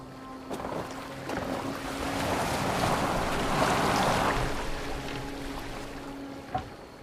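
A boat moves across the sea in Assassin's Creed Valhalla, with steady rushing water and wind swelling and fading, a few faint knocks and no voices.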